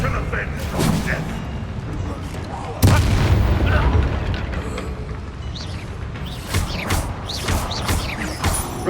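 Confringo fire spell bursts in Hogwarts Legacy combat, with a sharp boom near the three-second mark among repeated explosive hits and clashing battle noise, with voices talking over it.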